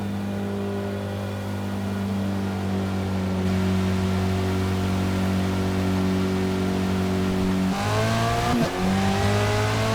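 A VW Golf GTI touring car races at Road America in Forza Motorsport, its engine holding a steady high-revving drone before a sharp shift and a fresh climb near the end, with no talking.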